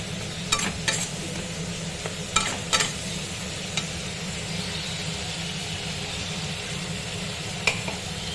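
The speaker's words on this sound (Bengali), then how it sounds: "দিয়ে একটু ভালো করে নাড়ছি টমেটো ফমেটোগুলো একটু বেশ মশলার সাথে মাখা মাখা হয়ে যাবে" A spoon stirs tomatoes and spices in a pan for a Bengali bhetki fish dish, giving a steady sizzle with scattered scraping taps.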